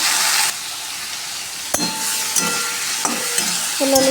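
Potatoes fry in a pan with a low sizzling hiss while a utensil stirs and knocks against the metal in a few irregular clacks, close by, with a brief brighter tonal scrape near the end and no voices.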